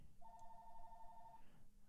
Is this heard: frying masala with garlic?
no